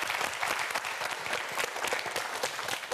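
A studio audience on a Korean TV quiz show claps for a student contestant, giving a brief burst of close, lively applause of about three seconds.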